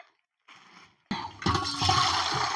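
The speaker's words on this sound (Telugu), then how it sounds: "ఇగో నీళ్ళు పోస్తున్నా" Water is poured into a cooking pot while making Rayalaseema-style uggani from puffed rice. After brief faint rustles, a loud, sustained rushing gush fills the pot and builds slightly toward the end.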